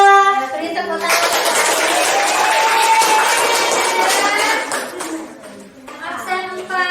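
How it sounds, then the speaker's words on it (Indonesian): Classroom of children clapping their hands together in a broad, steady burst of applause lasting several seconds, with young voices and a teacher talking before and after. "Beri tepuk tangan."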